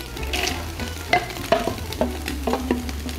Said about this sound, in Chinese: 就加龙虾壳，大火翻炒一下，